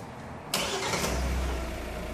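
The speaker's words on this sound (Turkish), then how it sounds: "Arabanızı çalıştırın." A 2020 Kia Sportage engine cranks with a brief whir and catches, settling into a steady low idle that hums on close by.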